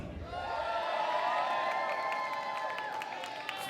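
A large crowd at a Kingdom Come X wrestling event cheers and shouts continuously, a loud roar with whoops and whistles swelling and holding throughout.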